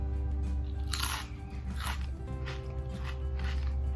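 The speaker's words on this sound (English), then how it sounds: "listen to this. You're gonna hear the crunch" Biting into a crunchy chia snack cracker with almonds and garlic gives a few loud, close crunches followed by steady chewing crackles.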